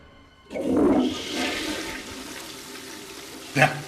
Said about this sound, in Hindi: मैंने हीरो को फ्लश कर दिया।